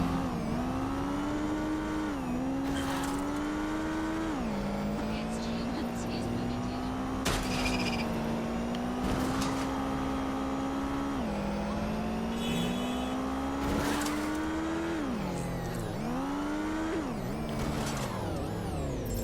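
A car drives in the video game Watch Dogs Legion, its engine a steady droning tone that rises and dips with gear changes and throttle, close and continuous, with game dialogue over it.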